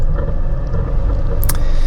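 A 2020 Jeep Wrangler Rubicon with the 2.0 engine climbing an off-road slope, a steady low engine rumble under load with a brief high-pitched squeak near the end.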